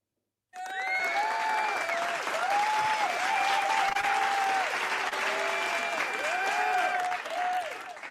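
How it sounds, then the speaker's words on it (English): Sustained, dense clapping starts abruptly and continues evenly and loudly for several seconds, with a tonal voice or chime-like sounds rising over the claps. "Let me give you a good clap."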